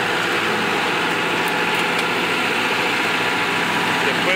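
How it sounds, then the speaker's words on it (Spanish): A tractor engine drones steadily while clearing oil palms on the Santa Bárbara plantation, a continuous loud mechanical rumble with no breaks, heard close. "Vemos cómo el tractor va a destruir estas paleras."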